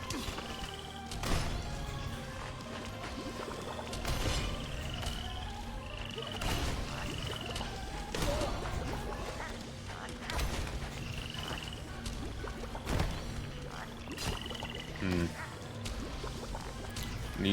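Toads croak in the video game Sword Hero Demo, with repeated short croaks and quacking calls scattered among sharp combat thuds and clashes, at moderate loudness over a busy game soundscape.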